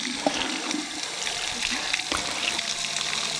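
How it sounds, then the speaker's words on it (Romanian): Running water gushes steadily, a broad continuous hiss like a tap or pipe pouring, with faint scattered voices and clinks underneath. "Dar de unde vine apa asta?"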